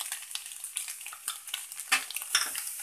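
A spatula stirs egg fried rice seasoned with pepper powder in a hot pan, soft repeated scraping and shuffling over a steady gentle sizzle, with no talking.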